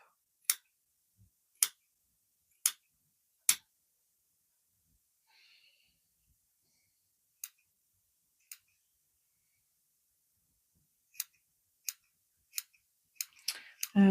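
Small scissors snip wispy fibres off needle-felted wool Easter decorations. The snips come as crisp, quiet, isolated clicks spaced a second or more apart, then bunch into a quicker cluster near the end.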